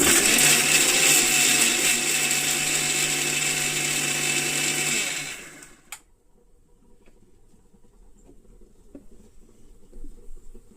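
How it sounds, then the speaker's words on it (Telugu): A kitchen mixer grinder blending tomatoes, onion and garlic, a loud steady high-pitched whir with rattling that runs for several seconds, then stops abruptly, leaving faint room noise. "ఇవన్నీ వేసేసి మనం మిక్సీ పెట్టేసుకుందాం."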